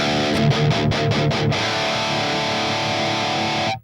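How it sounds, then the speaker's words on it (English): An electric guitar runs through a high-gain distortion pedal model on a Line 6 HX Stomp XL for a metal tone, a few quick chugged palm-muted hits followed by one long sustained distorted chord that cuts off abruptly. "And then the distortion pedal, we're going to add some gain to it."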